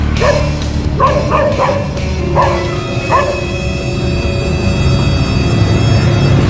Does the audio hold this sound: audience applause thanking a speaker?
no